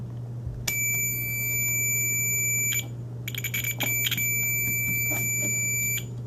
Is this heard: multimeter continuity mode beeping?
yes